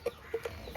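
A chicken being fed rice gives a few short, soft clucks, four quick separate notes close by in a quiet setting.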